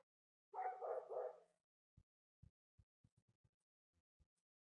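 Neighborhood dogs barking in the distance, a run of short faint barks spaced irregularly after a brief burst of nearby talk.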